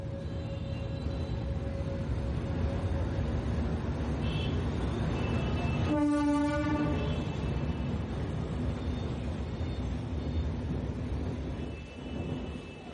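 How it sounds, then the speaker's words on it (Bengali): A relief train from the Dhaka shed rumbles steadily through the Jurain level crossing, heard from on board, with one short, loud horn blast about halfway through over the continuous track noise. "তো আমাদের ট্রেনটি এখন জুরাইন রেলগেটের কাছাকাছি রয়েছে, আর অল্প সময় জুরাইন রেলগেট থ্রু পাস করবে।"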